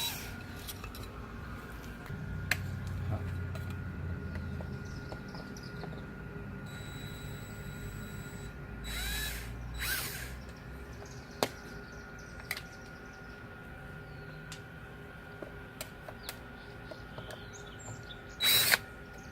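A power drill backs rusty screws out of a water-damaged RV wall, with low buzzing runs and faint clicks under a quiet room background, ending in a short louder burst.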